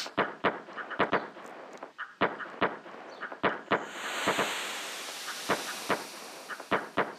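Explosions on a beach in Chrono Trigger, a rapid irregular string of sharp crackling pops like firecrackers, loud and close, with a steady hiss rising beneath them partway through.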